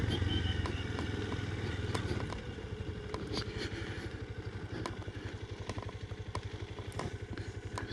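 A Honda XR125 trail bike's single-cylinder engine chugs along a trail in a rapid, even, pulsing beat, with occasional sharp clicks and knocks over a low, close engine note.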